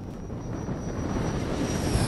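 RC F-16 jet with a JP Hobbies electric ducted fan running at half throttle, a steady whooshing roar with a faint high whine, heard outdoors with some wind noise and slowly building in loudness.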